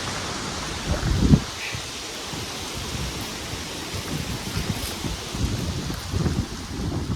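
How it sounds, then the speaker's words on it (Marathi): Strong wind blowing across a hill fort, a loud, continuous roar of gusts buffeting the microphone, with rustling and heavier rumbling bursts near the start and toward the end. "आणि प्रचंड असा जोरात वारा सुटला बघा."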